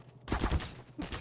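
Short gunshots in the shooter game Half-Life 2, a quick cluster of close, sharp bursts with a gap and then a few more.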